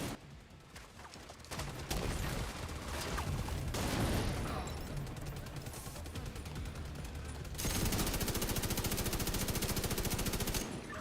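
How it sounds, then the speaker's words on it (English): Heavy automatic turret fire from The Division 2 shooter game, a dense sustained rattle of rapid rounds over busy battle noise, swelling louder near the end. "Oh yeah, I love that turret"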